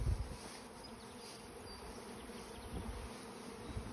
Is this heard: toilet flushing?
no